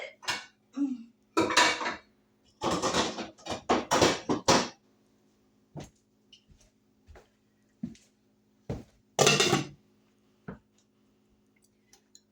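Metal pots, pans and lids clatter and clank in bursts in a home kitchen, with scattered separate knocks and one loud clash later, near and alone.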